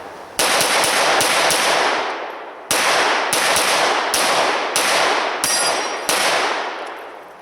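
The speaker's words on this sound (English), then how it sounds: "we're going to do some rapid shooting and just to see the gun" Rapid strings of shots from a Glock 34 Gen 4 pistol, loud and close, fired in several quick bursts of about three to five rounds, with brief pauses between the strings.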